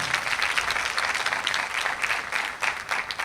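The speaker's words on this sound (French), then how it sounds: "Je vais vous demander de les applaudir très très fort." An audience at a televised talent competition quarter-final applauds the contestants, a thick, continuous roar of clapping from a large crowd that stays loud throughout with slight swells.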